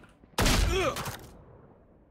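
A single sharp, loud gunshot burst in the tactical shooter Valorant, a sudden blast with a brief ringing tail that fades quickly into quiet game ambience.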